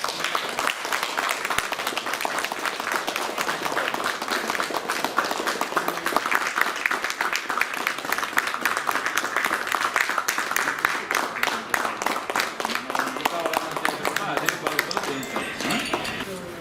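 An audience at a public gathering claps steadily for more than fifteen seconds, a dense continuous patter of many hands, with voices talking and calling out underneath.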